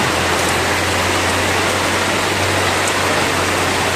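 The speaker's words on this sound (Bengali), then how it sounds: "ও সেই বৃষ্টি হচ্ছে" Steady rain falls continuously in an outdoor setting, a dense, even hiss with no breaks and no voices.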